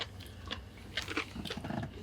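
Crunchy, salty herring eggs chewed close to a microphone, giving a quick run of crisp bites and wet crunches over about two seconds with no talking.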